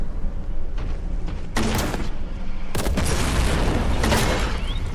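Several loud booming blasts from sticky explosive rounds in Resident Evil 5 go off in quick succession, each a sharp burst with rumbling tails, close and heavy over a constant background roar.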